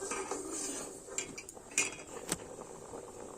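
Rice in a cooking pot being stirred with a metal spoon, a few close clinks and scrapes against the pot over a faint background hiss, irregular and sparse, no talk.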